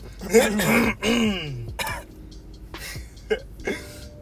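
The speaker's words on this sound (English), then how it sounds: "That one guy in the crowd that always coughs" A person nearby clears their throat and coughs a few times in rough, uneven bursts, with short pauses between them.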